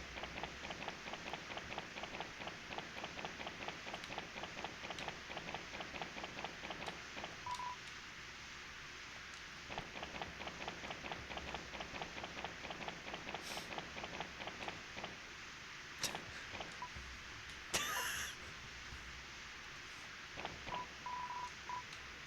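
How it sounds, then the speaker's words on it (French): Steady soft rain from the Deltarune video game patters continuously at low level, with a faint rhythmic ticking pulse through it, brief high chimes near the end, and no voices. "Génial, maintenant il pleut."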